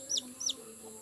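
A hen in an Indonesian backyard setting gives two short, bright clucks in quick succession, fairly close and clear over a low steady background hum, with no talking.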